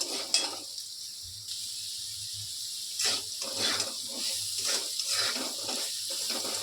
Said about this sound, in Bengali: আলুটা ভাজা হয়ে এসছে কিছুটা, আর একটু ভাজা হলে এখানে দিয়ে দেব টমেটো আর লঙ্কা